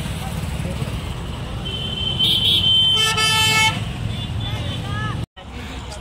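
Crowded road traffic near Shelu, with engines rumbling and a couple of car horns honking close by midway through the clip; the noise is continuous and moderately loud, with a voice speaking over it.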